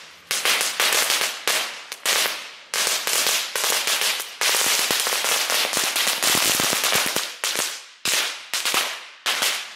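Rapid bursts of loud, sharp category 1 firecracker bangs at New Year, crackling in dense volleys with brief pauses between strings, close and continuous.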